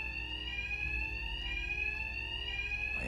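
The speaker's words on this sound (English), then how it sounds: "My attacks will be covered by the noise of the alarm." A loud alarm rings steadily in the video game Batman: Arkham Knight, a continuous high electronic tone with layered harmonics that holds throughout without a break.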